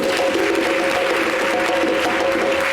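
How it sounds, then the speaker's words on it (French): Steady applause from a studio audience on an Ivorian talk show, a dense continuous patter of clapping with a faint tonal hum underneath, no talk. "On applaudit."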